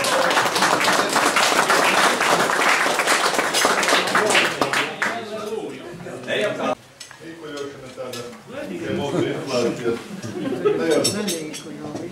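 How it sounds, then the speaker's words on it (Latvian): An audience at a Latvian live event breaks into loud, dense applause for about five seconds, which then fades as a voice carries on talking with scattered claps beneath. "Aplausi Pičiņām."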